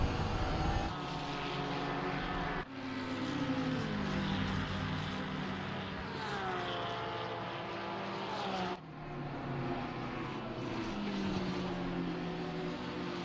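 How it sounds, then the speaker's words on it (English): A Honda racing engine at Watkins Glen in a sim racing game drones loudly and steadily with shifting pitch and sharp gear-change breaks, heard alone with no voices. "Great sound from that Honda engine,"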